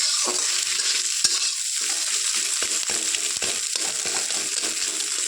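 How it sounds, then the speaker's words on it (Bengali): Egg scrambles into bhujia with a little salt in a hot pan, a loud, even crackling sizzle with repeated sharp taps and scrapes as it is stirred and broken up. "একটু নুন দিয়ে এরকম একদম সুন্দর করে কড়া করে ডিমটা ভুজিয়া করে নেব।"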